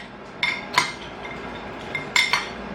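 Spoon or tongs clinking against a bowl while tossing Korean fried chicken in sauce, several bright metallic taps scattered in uneven bursts, close by and without speech.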